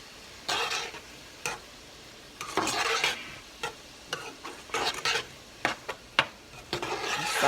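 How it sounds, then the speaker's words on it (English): Vegetables sautéing in a pan for vegetarian chili, with bursts of stirring and scraping over a soft sizzle, the spoon strokes coming in irregular close strokes with brief pauses between. "I'm going to saute that up for 3 minutes."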